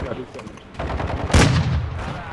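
Light machine gun fire in a video game: a few scattered shots, then a loud close burst near the middle trailing into rattling impacts, under the player's voices.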